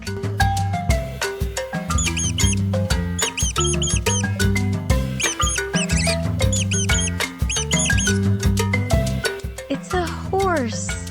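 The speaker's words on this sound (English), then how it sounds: "What sound does a rat make?" Rapid high squeaks of a mouse or rat in a children's animal sounds song, repeated chirpy bursts layered over steady backing music.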